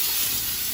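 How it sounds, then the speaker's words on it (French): Steam hisses continuously from a steam cleaner being sprayed through a car's interior cabin, a loud, even rush of vapor throughout the brief moment. "Donc je vais envoyer la vapeur partout dans l'habitacle."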